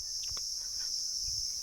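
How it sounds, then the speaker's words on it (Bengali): A cricket trills in a continuous high, steady whine beside a forest path, with a few faint rustles and distant bird notes beneath it. "ঝিঝি পোকা হবে চিন করেই যাচ্ছে।"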